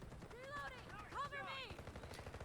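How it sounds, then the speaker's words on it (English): Gunfire in the Delta Force video game, heard as a rapid run of shots and bursts partly masked by a voice talking over them. "Immediately I hear gunshots, which also helps with that."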